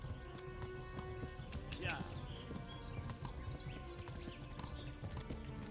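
A horse's hooves clip-clop at a steady walking or trotting pace while riding through the woods in Kingdom Come: Deliverance, underneath game music and ambient sound, with a brief whinny-like cry near the middle.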